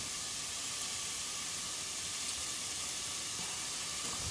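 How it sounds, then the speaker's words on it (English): Carrots going into a hot pan of onions set off a steady, even sizzle and hiss that holds throughout at a moderate, close level, with no voices. "These onions are ready to receive other participants here. So next we want to put in the carrots."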